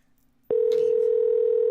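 A telephone dial tone follows a dropped call, starting abruptly after a brief pause and holding as one steady, loud, unbroken tone with nothing else heard.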